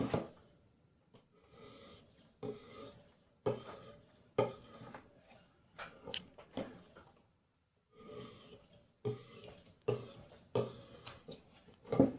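A Kershaw 7100BW knife with a CPM154 blade being sharpened on elbor and cast iron with diamond paste, heard as a series of short, quiet scraping strokes with brief pauses between passes.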